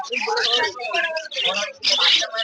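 Fischer's lovebirds and cockatiels chirp at a busy bird market, their quick bright tweets mixed in under a person talking nearby.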